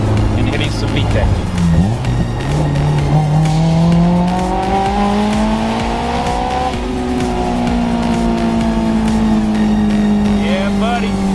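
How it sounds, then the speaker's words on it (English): A Honda S2000 with the top down revs hard into VTEC, its engine note climbing and holding a loud, rising whine close up, with road and wind noise and some tire sound underneath. "you cannot beat having the top down and hitting some VTEC"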